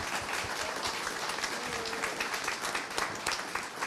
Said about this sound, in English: Can we give another round of applause to the Growing Thunder?